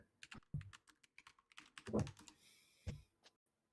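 Someone types a chat message on a computer keyboard, with quick irregular clicks and a few heavier key thumps up close, then a short pause before a final tap.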